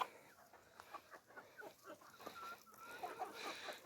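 Chickens in a village cluck softly and intermittently close by, a few short clucks and calls scattered over a quiet background.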